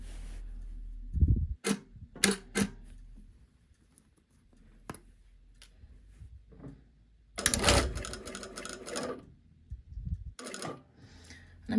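A sewing machine stitching around a three-sided pocket box on an anchored inseam pocket, in short bursts of fast mechanical whirring separated by quiet pauses and soft handling noises.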